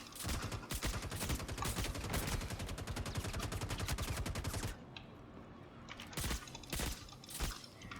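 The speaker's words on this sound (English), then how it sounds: "Who's shooting at me?" Rapid automatic gunfire rattles in the video game Star Citizen, a dense, loud burst of shots that stops abruptly and gives way to scattered single shots and impacts.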